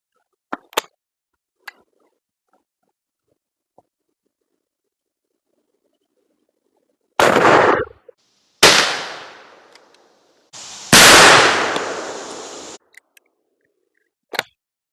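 A 20-gauge Remington side-by-side shotgun fires Fiocchi Golden Pheasant 2.75-inch loads at a target outdoors. There are three sharp, loud reports with echoing tails, spaced a second or two apart, amid quiet handling clicks.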